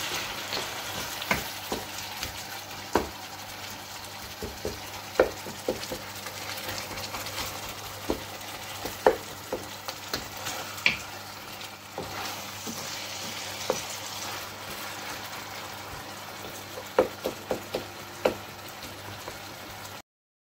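Chopped tomato fries in a pan for a lamb or roe deer shoulder dish, giving a continuous close sizzle dotted with small pops and crackles throughout.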